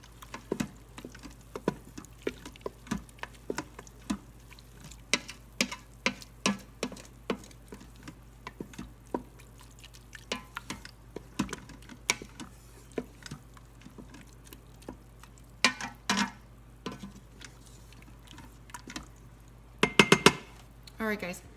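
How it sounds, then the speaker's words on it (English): A spoon stirs soy milk into rice pudding in a pot, scraping and clinking against the metal in irregular taps, with a cluster of sharper clinks near the end and talk in between. "And we're going to give that a good stir, mix that in completely."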